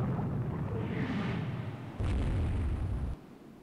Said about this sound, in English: Submerged torpedo tube hit on the Navarin.